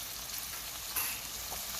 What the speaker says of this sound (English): I'm going to let the onion cook until it's translucent